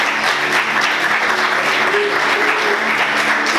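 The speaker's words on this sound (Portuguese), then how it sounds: "Quantos podem aplaudir Jesus?" A church congregation applauds together in a steady, dense wash of clapping that fills the whole stretch, loud and close, with faint voices mixed in underneath.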